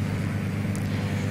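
An aircraft engine drones steadily inside a flight simulator during a flight from Alaska to Northern California, a constant low hum that runs unbroken and fairly loud with no voices over it.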